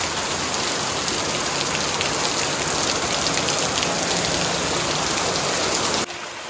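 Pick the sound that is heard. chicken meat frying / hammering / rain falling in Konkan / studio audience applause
rain falling in Konkan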